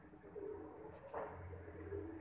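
Soft, low pigeon cooing rumbles faintly a few times, with a couple of brief high chirps in a quiet background.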